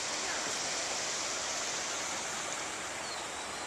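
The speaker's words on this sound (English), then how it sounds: "This very lovely little bridge with the water coming under the house." Stream water flows steadily under a small stone bridge beside a house on the Camino, a soft, continuous broadband rush with no voices heard.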